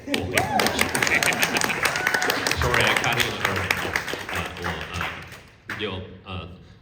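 Clapping from an audience at a political talk, dense and fairly loud, then cutting off near the end as a voice speaks briefly.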